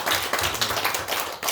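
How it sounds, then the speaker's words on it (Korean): A church congregation at a children's Sunday and 70th anniversary service bursts into hearty applause, many hands clapping in a thick, continuous wash close by. "우리 주일학교 교사로 세웠는데 우리 큰 박수 하겠습니다"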